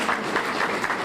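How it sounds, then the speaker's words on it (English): Applause from a banquet audience for a volunteer named Lauren, steady dense clapping filling a brief moment with no pause. "please give her an applause"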